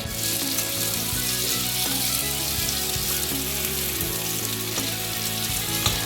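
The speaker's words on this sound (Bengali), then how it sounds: "আলুগুলো প্রায় ভাজা হয়ে এসেছে" Potato pieces fry in a pan for a dry fish curry with flat beans, giving a loud, steady, close sizzle that carries through the whole stretch, with a few faint stirring knocks and no speech.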